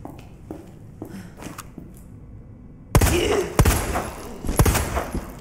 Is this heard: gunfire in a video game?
yes